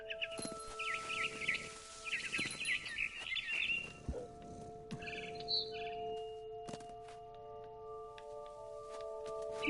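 A scared barn swallow chirps in the video game What Remains of Edith Finch, with clusters of quick high calls near the start and again midway, over a sustained musical drone and without speech.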